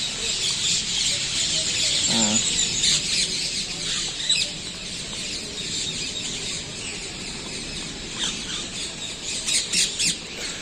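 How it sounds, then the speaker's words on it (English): A flock of chickens squawks and clucks on the grounds of a hospital, with a busy, continuous chorus of overlapping calls close by and one louder squawk standing out. "Oh, there are lots of birds,"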